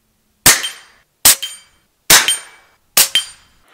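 Four sharp, loud shots from an FX Panthera .25 caliber air rifle fire at an even pace, each a crisp crack followed by a short metallic ring, with silence between them.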